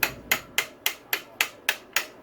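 An extension tapped lightly with a hammer to knock out a dirt bike steering stem gives eight evenly spaced, sharp metallic knocks, close and crisp, with no talking.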